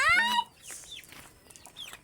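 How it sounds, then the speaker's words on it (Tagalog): Chickens of various breeds cluck close by in a short burst, opening with a loud, strained call and followed by quieter clucks and chirps. "Ang daming chicken. Iba-ibang mga lahi nito."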